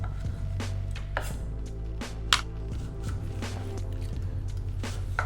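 Knife rough-chopping thick cut bacon on a board, a series of close, sharp chops in an irregular rhythm over a low steady hum, with no voices.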